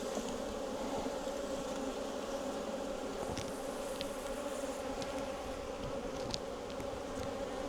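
A dense, steady drone of honeybees buzzing around an open hive, many insects humming together at constant loudness with occasional nearer passes.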